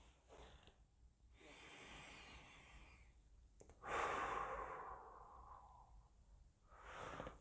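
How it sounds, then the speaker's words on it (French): Slow, deep breaths drawn in through the belly during a relaxation breathing exercise, two long close airy inhalations with a quieter exhale between them, no talking. "je vais inspirer par le ventre"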